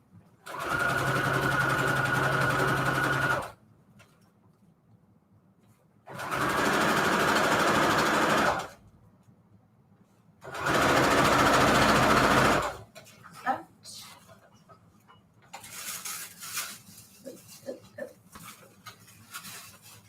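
A sewing machine stitching fabric for a Christmas string quilt journal cover: three steady, close, whirring bursts of a few seconds each with pauses between, then rustling and handling noises.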